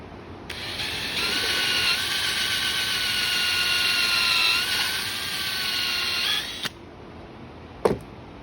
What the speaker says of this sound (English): I'm going to drill it with this little